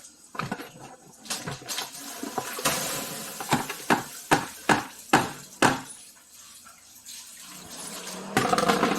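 Pears are washed under running water, a steady splashing stream punctuated by a quick series of loud knocks and thumps as the fruit is handled, ending in a louder rush of water.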